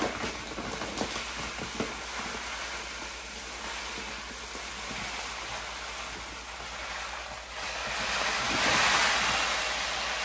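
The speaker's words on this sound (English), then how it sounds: "So we're gonna pour the rice in and then put it in the pantry." Dry rice poured into a pantry storage container, a continuous hissing, rattling rush of grains that swells louder toward the end, with no talking.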